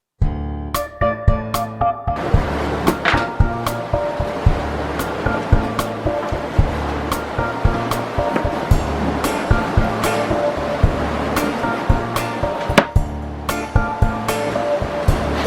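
Open Pacific Ocean waves wash steadily around a sailing boat far out at sea. The rushing surf is loud and continuous, broken by sharp knocks and splashes against the hull.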